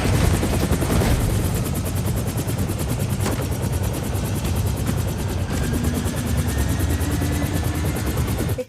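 Helicopter rotor chop from the video game 007 First Light, a steady loud thrum throughout, with bursts of gunfire crackling over the rotor noise.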